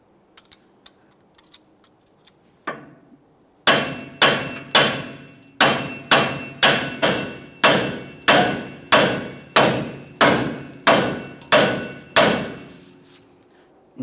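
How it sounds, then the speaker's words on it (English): A hammer strikes the steel steering knuckle of a 1999-2006 Chevrolet Silverado to free the upper ball joint: one early blow, then about a dozen sharp metallic hits in a steady rhythm, close and loud. "I'm going to start tapping up along where the upper ball joint makes its way through the knuckle here"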